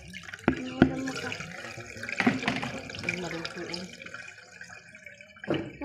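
Water runs from a tap for washing, splashing and dripping in intermittent bursts, with some faint background sounds.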